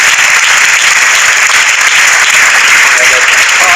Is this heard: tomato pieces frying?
no